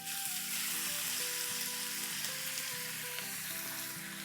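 Crushed garlic with cumin, cinnamon and black cardamom frying in oil for methi aloo sabzi, a steady soft sizzle with occasional stirring clinks, continuous and fairly quiet.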